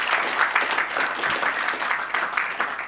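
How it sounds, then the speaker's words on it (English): An audience at a Kenyan jobs conference applauds, a dense, even wash of many hands clapping that carries on strongly from start to finish. "Can we do a clap"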